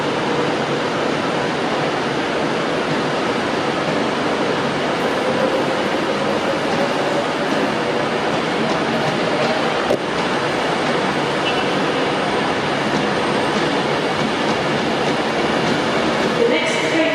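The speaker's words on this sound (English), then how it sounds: "And so into the station where the train is standing in platform 4." A train arriving and standing at platform 4 of Carlisle station, heard as a loud, continuous rumble and roar of rolling stock and station noise that holds steady throughout.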